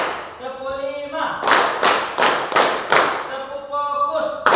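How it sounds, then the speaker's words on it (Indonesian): Group hand clapping at an indoor gathering, several loud, evenly spaced claps in a steady rhythm, framed by brief spoken counting before and after. "tepuk tangan semuanya"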